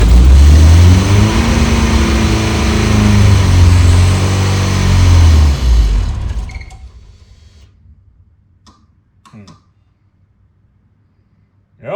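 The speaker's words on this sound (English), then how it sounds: "Just going to give it a little bit of throttle." A Volkswagen Scirocco engine revs under light throttle, loud and close, with a rising and falling throaty drone for about six seconds before it cuts out, followed by faint clicks and near silence.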